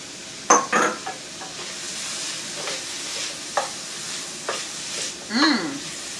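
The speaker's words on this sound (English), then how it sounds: "add our peppers and mushrooms to our sauteed onions, and we'll let that go for a few minutes" Peppers and mushrooms sauté with onions in a pan, giving a steady low sizzle punctuated by several distinct scrapes and clinks of a utensil stirring against the pan.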